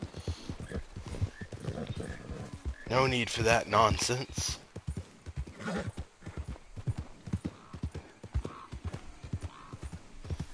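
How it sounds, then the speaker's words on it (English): Horse hooves clip-clop in a steady riding rhythm in Red Dead Redemption II, the game's Western open world, with a brief whinny; people talk over the hoofbeats throughout. "I'm just riding my horse by you."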